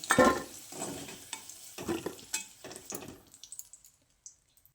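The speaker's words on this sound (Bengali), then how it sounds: "তারপর আলুটাকে একটু লালচে করে ভেজে নেব।" Potato pieces fry in a pan until reddish for a vegetarian pumpkin curry, with a series of close scraping, sizzling stirs that grow sparser and fainter toward the end.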